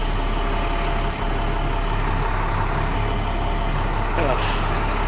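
An International DuraStar truck with a MaxxForce DT diesel engine idles steadily and loudly close by, a low constant rumble with a brief dip and a faint rattle near the end.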